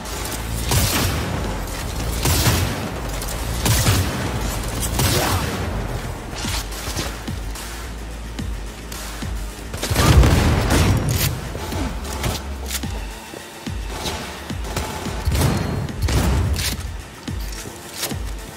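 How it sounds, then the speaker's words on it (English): Shotgun blasts from a first-person firefight in the video game Cyberpunk 2077, heavy booming shots firing repeatedly over nearly twenty seconds amid dense clattering combat noise, loud and close with one especially big blast midway. "Shotgun's got really long range too."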